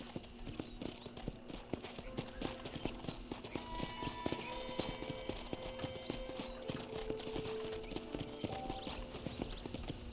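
Horse hooves clip-clopping at a walk on a ranch in Red Dead Redemption, a steady rhythmic run of close hoof strikes with a brief whinny and faint ambient game sounds beneath.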